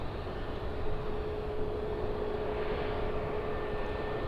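An ATR turboprop arriving at Birmingham airport produces a steady, broad engine roar with a faint sustained tone, fairly distant and continuous with no talking.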